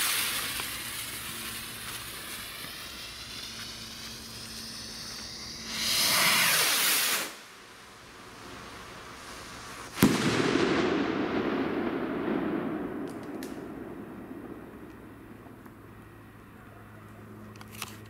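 A powerful firework rocket from a loud "DUM BUM" set is launched at night with a short rushing fuse hiss, then a single sharp, very loud bang followed by a long rumbling echo fading away.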